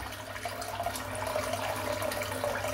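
Hot water runs steadily from a tap into a sink during a shaving routine, a continuous close splashing hiss with no break and no one speaking.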